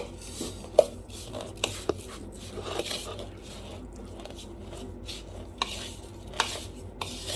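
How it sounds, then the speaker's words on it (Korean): Hand-kneading a hamburger patty mixture of ground meat and fried onions in a bowl produces soft squelches and irregular clicks and knocks against the bowl, quiet and close, with no talking. "재료가 잘 섞이도록 치대 주시고요."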